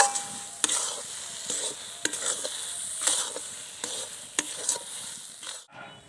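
A spoon stirs thick chana dal laddu syrup in a pan, giving repeated scraping strokes and sharp taps against the metal over a soft, low sizzle, close and alone, ending with an abrupt cutoff.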